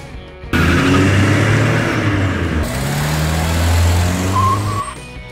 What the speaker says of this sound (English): Monster Compact Car.